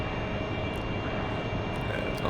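An AV-8B Harrier's jet engine roars steadily and loudly during air-to-air refuelling, a continuous broadband rush that stays level throughout with no talking.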